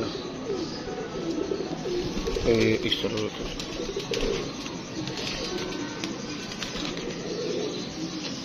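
Pigeons coo softly in the background while someone talks over them, with a brief flutter of movement partway through.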